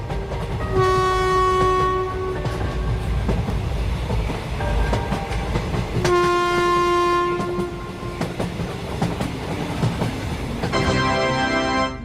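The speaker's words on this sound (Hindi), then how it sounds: "अच्छा हुआ ड्राइवर ने ट्रेन को स्टार्ट कर दिया" Cartoon train starting and running: a loud, steady rumble of wheels and rolling carriages, cut through by long tonal horn blasts near the start and middle and again at the end, with no voices.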